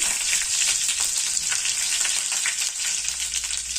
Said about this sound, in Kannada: ಜೀರಿಗೆ ಒಂದೆರಡು ಕಡ್ಡಿ ಕರಿಬೇ ಹಾಕೋಣ